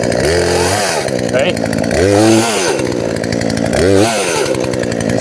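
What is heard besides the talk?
chainsaw cutting firewood from the underside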